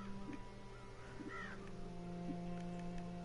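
Several short crow caws from a video game demo sound over a steady hum of game ambience and faint background music.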